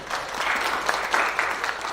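Audience at a book launch breaking into a modest round of applause, an even wash of clapping with a few sharper individual claps, moderately distant and without talk.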